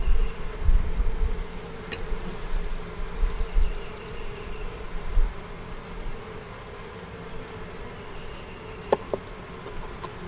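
Honeybees buzz in a dense, steady drone at a productive beehive making honey, close and continuous, with a few faint clicks and bumps.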